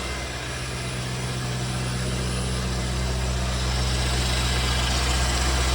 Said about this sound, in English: This is the 350 horsepower LS1 engine.